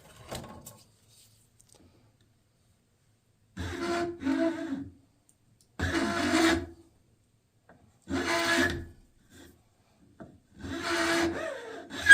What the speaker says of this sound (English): we'll take our saw and cut our kerf for the wedge